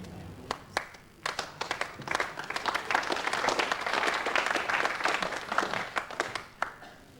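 Spectators at a bowls tournament applaud a shot, scattered claps quickly building into a warm, fairly close round of clapping that thins out again toward the end.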